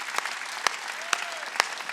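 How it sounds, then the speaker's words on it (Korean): A few sharp, distinct claps from a church congregation at a Wednesday worship service, four loud strikes spaced roughly half a second apart over a softer murmur of background clapping. "박수를 치려면 세게 쳐."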